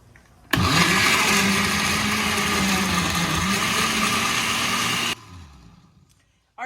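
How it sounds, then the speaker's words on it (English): A blender whirs a sauce mixed with about a cup of water, a loud steady roar running for roughly four and a half seconds before stopping abruptly, leaving quiet room tone. "just put like 1 cup of water, and we are gonna go ahead and blend it"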